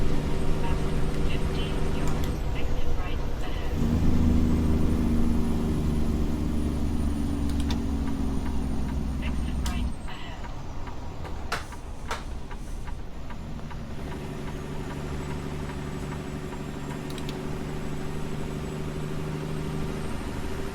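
A truck in American Truck Simulator cruises along the 110 highway in Los Angeles, its engine droning steadily and loud, dropping to a lower hum partway through, with a person talking over it.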